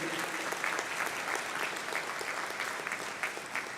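An audience at an Institute Day 2025 event gives Desh a warm round of applause, a steady, moderately distant patter of many hands clapping that continues throughout.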